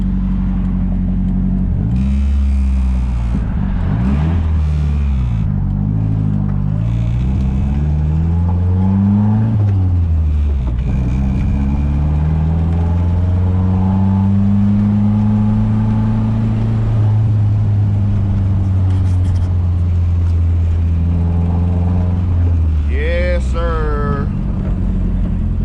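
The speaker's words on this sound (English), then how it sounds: "Hopefully y'all can hear that turbo flutter too, man, because that shit's pretty loud." A Nissan KA24DET turbocharged engine heard from inside the car while driving, loud and steady, its pitch climbing and falling through gear changes, with a sharp fluttering burst near the end as the throttle lifts.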